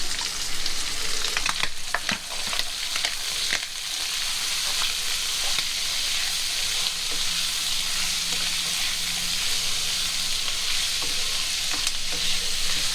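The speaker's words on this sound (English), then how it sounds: "And then we're just going to give that a good stir." Fried cabbage noodles with carrot, peas and corn sizzle steadily in a pan as they are stirred, a close, constant frying hiss with a few scraping clinks early on and no talk.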